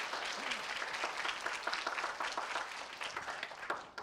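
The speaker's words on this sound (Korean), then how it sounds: "다시 한번 박수 한번 쳐볼까요?" Audience applause at a youth summer camp concert event, a steady wash of many hands clapping throughout, fairly soft and even with slight swells.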